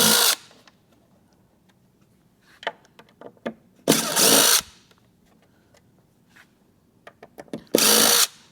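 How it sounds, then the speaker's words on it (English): A power drill runs in three short bursts, backing machine screws out of an FBT Horizon VHA 118.2SA 18-inch powered subwoofer cabinet, with quiet clicks and handling noises between the loud whirs. "So we'll get the screws out of this thing real quick."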